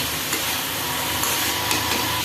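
Soybean chunks stir-fried in a pan for a spiced bhuna dish, giving a steady broadband sizzling hiss with faint scraping stirs, close and continuous with no talking.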